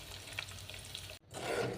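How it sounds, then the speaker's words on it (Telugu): Onion pieces, cumin, mustard seeds and dried red chillies sizzle steadily in hot oil for a tamarind pickle tempering, a close continuous frying hiss broken briefly by a stir. "ఇవన్నీ ఎర్రగా వచ్చేంత వరకు ఫ్రై చేసుకున్నాం."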